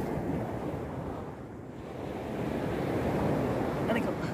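Sea waves wash onto a beach in a steady, broadband roar, with wind buffeting the microphone throughout and no clear breaking crash standing out.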